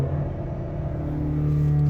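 A stationary Toyota RAV4's four-cylinder engine revs under test for misfires, giving a steady close rumbling drone that climbs slightly in pitch.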